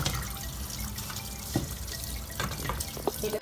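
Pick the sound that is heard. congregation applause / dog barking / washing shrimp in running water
washing shrimp in running water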